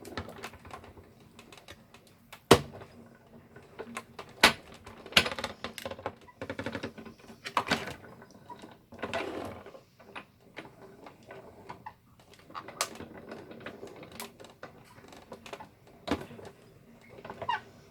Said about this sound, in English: I'm going to take that through my die cutting machine. I'm going to pass it through a few times.